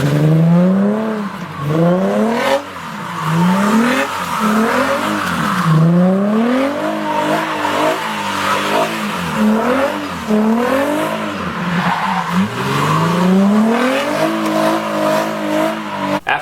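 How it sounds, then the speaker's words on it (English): A car doing donuts on its first outing from the garage after a big build project, engine revving hard in repeated rising and falling sweeps with continuous tire squeal, loud and close throughout. "I got this thing out of the garage for the first time and did some donuts in it."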